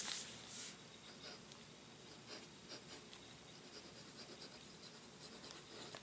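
A fountain pen, a Kaweco Perkeo filled with a gray Robert Oster-style sketch ink, scratches steadily across paper in soft, continuous strokes, quiet and close with a faint background hiss.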